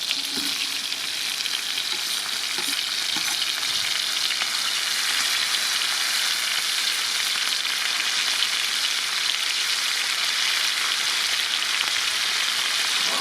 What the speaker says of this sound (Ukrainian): Перевертаю її на другий бік і додаю до неї цибульку.